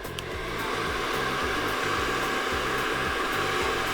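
A hair dryer blows hot air onto a coil hair tie, starting quickly and then holding a loud, steady whoosh with a fast pulsing motor hum underneath.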